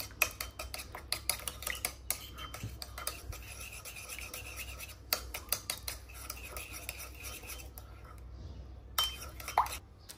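A spoon stirs a spiced sauce with oregano in a metal pan, making quiet scraping and clinking in bursts separated by short pauses.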